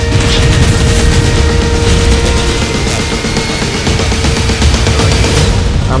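Very loud, dense gunfire and booming shell blasts from the Foxhole war game pound without pause, a close, continuous barrage with no voices.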